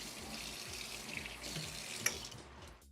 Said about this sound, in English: all I needed to do is run some water over it